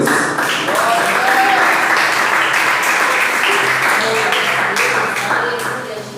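A church congregation at a Wednesday evening service bursts into sustained applause, dense hand claps filling the room for several seconds and tapering off at the end, with a voice speaking over it.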